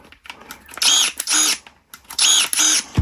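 A Black & Decker cordless pruner runs in four loud, evenly spaced whirring bursts, each lasting about half a second, separated by short pauses of quieter motor noise.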